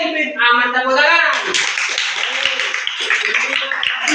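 A classroom of students claps hands after a lesson answer, a burst of quick close clapping that starts under a voice and then runs on alone for a few seconds.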